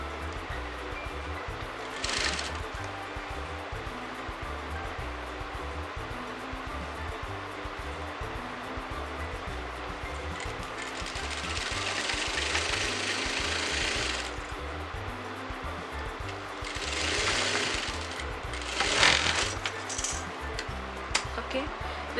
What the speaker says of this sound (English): I'm going to sew till this point.